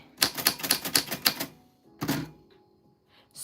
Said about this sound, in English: when I type on like a computer, I'm typing like this